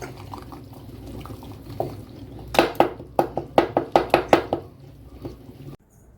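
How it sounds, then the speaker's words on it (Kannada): A masher pressing cooked spinach, dal, green chilies and garlic in a pot, a run of about eight rhythmic wet thuds close up, followed by a brief silence. "ಮಸ್ಕೊಳ್ಳೋಣ ಈ ಥರ ಮೆಣಸಿನ್ಕಾಯಿ ಬೆಳ್ಳುಳ್ಳಿ ಸೊಪ್ಪು ಎಲ್ಲ ಇದೆಯಲ್ಲ ಈ ಥರ ಮಸ್ಕೊಂಡ್ರೆ ಕ್ಲೀನಾಗೆ ನುಣ್ಣಗೆ ಆಗುತ್ತೆ"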